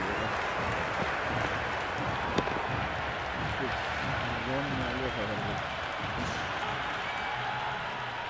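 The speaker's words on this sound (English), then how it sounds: "It's the most enthusiastic crowd you could ever see right now. There's a buzz, a real buzz coming from the stands." A cricket stadium crowd roars after a boundary in a Pakistan vs Sri Lanka T20 match at Dambulla, a sustained, distant wash of cheering and applause running under continuous commentary.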